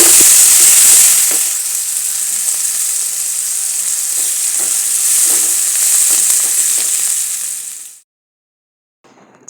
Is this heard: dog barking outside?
no